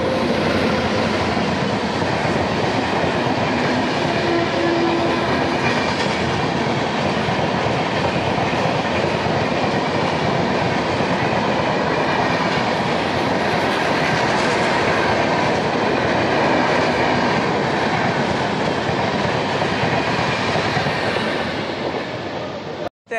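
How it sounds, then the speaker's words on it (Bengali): A through train passes on the Howrah to Bardhaman chord line, its steady rumble and clickety-clack of wheels on rail loud and continuous for over twenty seconds, close by, with faint voices underneath. "একটা থ্রু ট্রেন যাচ্ছে"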